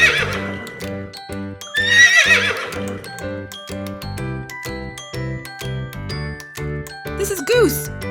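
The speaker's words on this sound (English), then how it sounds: "This is horse." Horse neighing with a clear, loud whinny near the start, set over a bouncy children's tune with light clip-clop and jingle accents, followed by a second brief whinny toward the end.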